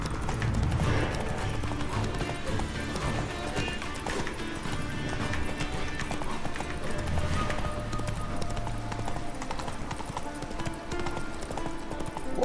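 Rapid rhythmic hoofbeats of a galloping horse in The Witcher 3: Wild Hunt continue steadily throughout, layered with game music and ambient sounds, fairly loud and close.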